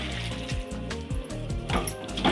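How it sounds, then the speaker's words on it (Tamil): Water pours into a pan of cooking banana stem over a low background hum, a steady splashing trickle that swells briefly near the end. "இப்போ ஒரு கிளாஸ் தண்ணி ஊற்றிக்கலாம்"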